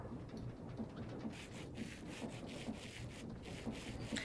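Diamond sandpaper sanding in the Minecraft Create mod, a steady rhythmic rasping scrape repeating in even strokes, moderately close and alone, with a faint background hum.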